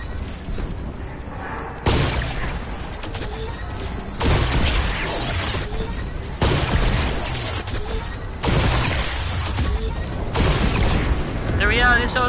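A Gatling gun fires in bursts in the Fortnite video game, loud and dense, with roughly five sustained blasts of rapid fire separated by brief lulls.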